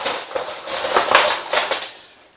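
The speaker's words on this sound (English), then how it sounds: "You can put as many traps in the pot as you can get in there." Metal foothold traps, including a 110 body-grip trap, clank and rattle against each other inside a metal pot as they are mixed, loud and close in irregular jangling bursts that fade at the end.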